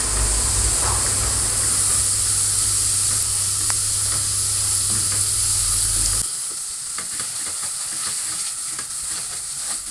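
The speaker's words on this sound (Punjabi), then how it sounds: "ਘਿਓ ਗਰਮ ਹੋ ਗਿਆ ਆਪਾਂ ਸੂਜੀ ਪਾ ਦੇਣੀ ਹੁਣ ਇਹਦੇ ਵਿੱਚ" Semolina fries in hot ghee for sooji kadah with a loud, steady sizzle and hiss, close up, that drops abruptly partway through to a softer crackle as stirring continues.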